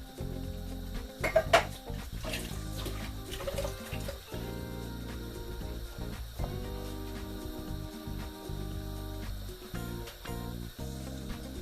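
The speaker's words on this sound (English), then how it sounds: "Now I'm going to refill the tin of tomatoes with pure water just from the tap there." Tap water runs steadily into an emptied tin of tomatoes while lentils with peppers and paneer are being cooked. There is a continuous rushing splash with a few clinks early on, heard close in a kitchen.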